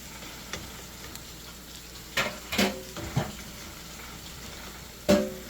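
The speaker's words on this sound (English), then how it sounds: "We're going to go ahead and continue frying our snack." Hush puppies fry in hot grease with a steady sizzle throughout. Several louder pops and bubbling bursts rise over it, and no one talks.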